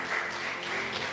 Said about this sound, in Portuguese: Você pode aplaudir ao Senhor por isso então